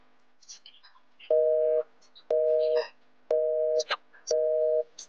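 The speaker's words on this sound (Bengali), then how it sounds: "The number you have dialed is currently" A telephone busy tone beeps four times in an even rhythm, each beep about half a second, with soft whispering and rustling between the beeps.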